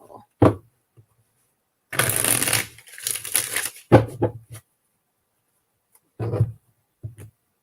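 Cards being shuffled during a live tarot-style reading, a few brief riffling bursts with quiet gaps between them, close and fairly loud, with no talk.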